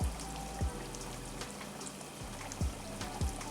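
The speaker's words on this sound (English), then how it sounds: "You can see the oil is hot and it's cooking the potatoes now" Potato fries cooking in hot oil for homemade poutine, a soft steady sizzle and crackle with a few low knocks and thumps in the pan, fairly quiet and with no talking.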